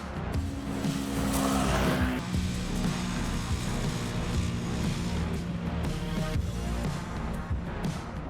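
A CF-Moto Cforce 1000 liter-class ATV, mud version, driving hard through a field, its engine roaring steadily and close with a brief surge of revving, no speech.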